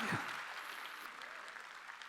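A church congregation at a Sunday worship service claps together in a soft, steady wash of applause that carries on evenly, with a brief voice at the very start.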